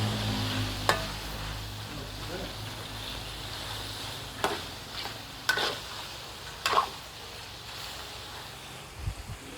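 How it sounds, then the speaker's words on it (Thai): Sun-dried pork frying in oil gives a soft, steady sizzle, with a few sharp clinks of a utensil against the pan. "แล้วก็ทอดไปเรื่อย ๆ ทอดไม่นานนะคะ"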